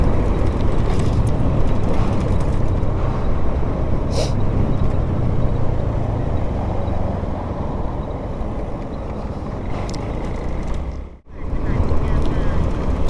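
A motorbike rides around through city traffic while waiting for GrabFood delivery orders, with a steady broadband engine and road rumble and passing vehicles, the noise briefly dipping near the end.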